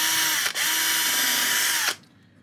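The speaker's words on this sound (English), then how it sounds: "we're gonna drill one more set of holes." A power drill bores holes for a model tree kit, a loud, close, steady high whine running nearly two seconds with a brief dip partway through, then stopping abruptly.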